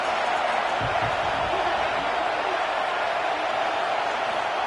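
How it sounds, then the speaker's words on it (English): A college football video game stadium crowd roars as a steady, dense wash of noise, broad and loud and without clear breaks, with a voice speaking briefly underneath. "This crowd ready to make its presence known."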